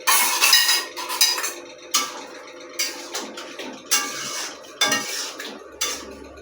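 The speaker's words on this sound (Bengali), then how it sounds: "এবার আমি কড়াইয়ে চাপাটা দিয়ে রেখে দিলাম" Metal lid set on a wok of cooking chorchori, with a series of sharp clanks and scrapes repeating about once a second, close and clear with no voices.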